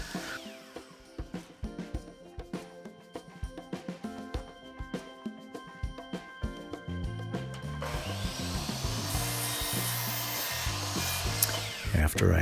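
A power saw cuts 2x4 wood scraps into small 1.5-inch cubes: a run of short, sharp cutting bursts, then a longer steady whining cut that ends abruptly, loud and close with no talking.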